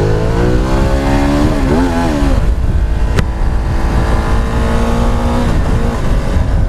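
A 2018 Ducati Multistrada 1260 Pikes Peak motorcycle accelerating hard for a wheelie, its engine loud and close, rising in pitch through the gears, with a brief sharp click midway.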